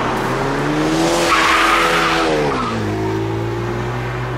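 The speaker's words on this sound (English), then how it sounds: "There's a car behind me right now too." A car passes close behind a rider on an Onewheel XR, its engine and tire noise swelling loud and then falling away as it goes by, with no talk over it.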